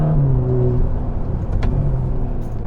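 A front-engined Ferrari Roma accelerating under a light throttle, its engine a steady, fairly loud hum heard from inside the car with a brief whir midway, and no talk.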